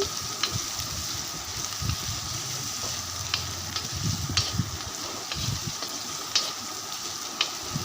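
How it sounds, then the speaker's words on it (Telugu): Green chillies and onions frying in hot tempering oil for a ridge gourd curry, giving a steady hissing sizzle with light spatula taps and stirring scrapes at intervals, heard alone without voices. "ఒక నాలుగు పచ్చిమిర్చి రెండు ఉల్లిపాయలు కట్ చేసి ఈ విధంగా పోపులో వేసేసానండి వేసేసి వేగనిస్తున్నాను"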